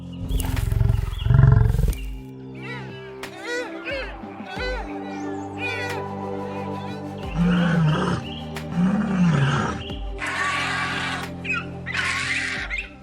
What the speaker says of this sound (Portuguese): Um rugido profundo ecoou pela planície